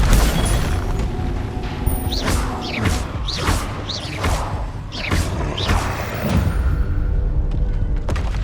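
Spell blasts including Confringo crack through a Hogwarts Legacy duel, a series of loud booms, whooshes and thuds in quick succession over a rumbling combat backdrop.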